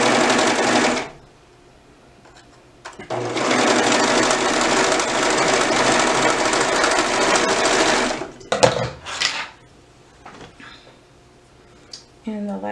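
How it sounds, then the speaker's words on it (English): Bursts of a sewing machine stitching rapidly, two long runs separated by pauses, with short clicks and handling noises between. "just use a stretch stitch on your sewing machine"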